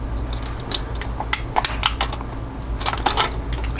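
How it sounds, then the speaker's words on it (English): Scissors snip the end off a plastic part of a P-40 Warhawk model kit, several sharp close clicks and snaps scattered over a few seconds against a low background hum. "I'm going to cut this end off with the scissors"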